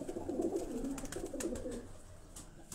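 Pigeons being kept and prepared for a long flying season, cooing softly in a low, repeated warble, faint and close, with no talk over it.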